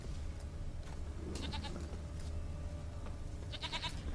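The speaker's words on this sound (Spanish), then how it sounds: "¿Esa es la cabra?" A goat in the video game The Witcher 3 lets out two short, quavering bleats, one early and one near the end, over a low game ambience.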